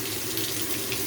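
Tap water runs steadily into a basin holding a Tide Pod and an OxiClean White Revive pod, a continuous close splashing rush with no talk.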